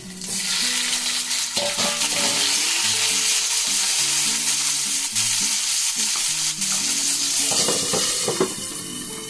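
Okra masala curry with tomato fries loudly in a pan, a dense continuous sizzle with brisk stirring and occasional clinks throughout, with no voices.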